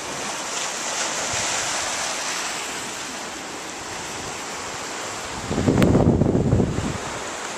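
Ocean surf washing against rocks below a hotel villa's private sunbathing deck, a continuous broad rushing roar with wind buffeting the microphone, swelling into a louder crashing wave near the end.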